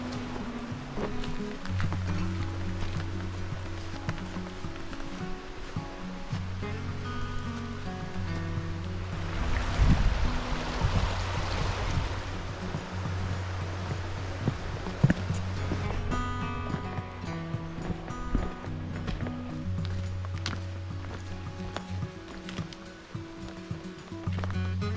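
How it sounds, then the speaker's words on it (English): A stream flows beside a hiking trail in the White Mountains near Sawyer Pond in mid-August, giving a steady rushing wash throughout with faint footsteps and other small sounds over it. "Hiking along this lovely stream."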